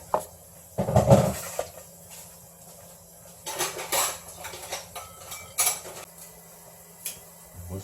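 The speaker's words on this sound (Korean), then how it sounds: "그렇게 해서 접시를 한번 채워보도록 할게요." Dishes and cutlery clink in a few sharp bursts, a heavy clatter near the start and lighter knocks and taps after, with quiet between.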